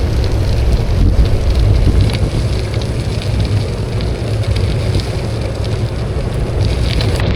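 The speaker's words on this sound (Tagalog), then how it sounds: "Maulan." Heavy rain pours steadily while riding through Makati, a dense, constant wash of drops with strong wind noise buffeting the microphone throughout, no voices.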